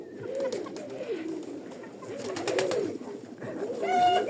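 Pigeons, kept fancy breeds, cooing close by in a loft, soft repeated throaty coos with light rustling and a few sharper calls near the end.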